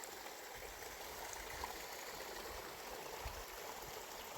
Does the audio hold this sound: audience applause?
no